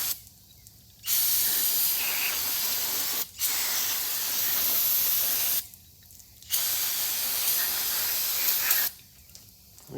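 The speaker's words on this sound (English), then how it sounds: "with a little brake cleaner, see if we can clean this off" Brake cleaner sprayed onto a race car engine part during a motor swap in a cold shop, heard as three long, loud hissing bursts separated by short pauses.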